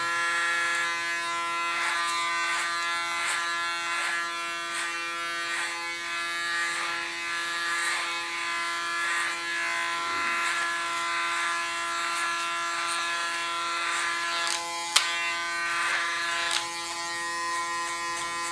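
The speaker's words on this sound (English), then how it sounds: "You can hear the small hairs rolling between the blades of the clipper." An electric hair clipper buzzes steadily and close up while cutting short hair in a salon, a continuous motor drone with faint snipping texture and a couple of sharp clicks near the end.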